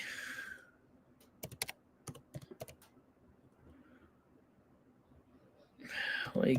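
Quick bursts of close computer keyboard typing as a fantasy football league code is entered, clustered keystrokes in a short run, with a voice speaking before and after.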